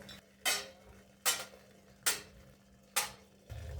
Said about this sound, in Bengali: এবার বাটিগুলো স্টিমারের মধ্যে দিয়ে দেব।